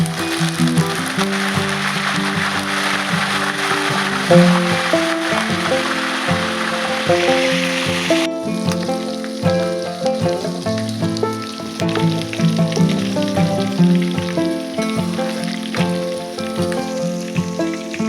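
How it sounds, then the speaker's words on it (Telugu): Green chillies and curry leaves fry in hot oil with a continuous crackling sizzle, loudest in the first half, joined throughout by a rhythmic, tonal patter, close and without talk. "కొద్దిగా బాగా ఫ్రై కావాలండి ఇవి"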